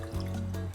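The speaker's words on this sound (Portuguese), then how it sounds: "Eu vou cobrir com água." Water is poured over soaked peanuts in a pot, a soft, quiet trickling and splashing over a low steady hum, with a brief louder splash at the end.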